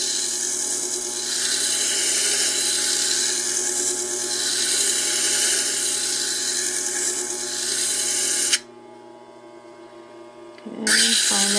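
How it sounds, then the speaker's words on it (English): A wet sanding disc grinds against a labradorite stone in a steady, loud abrasive whir that runs continuously, then briefly gives way to a lower motor hum before the grinding resumes near the end. "You can see how wet the blade or the sanding disc is just by a few drops of water on it"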